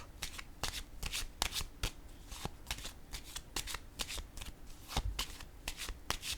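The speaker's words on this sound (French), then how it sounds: "Je vais déposer une carte sur la féminine," Tarot cards handled on a table in a steady run of quick, close papery flicks and riffling clicks, with no one speaking.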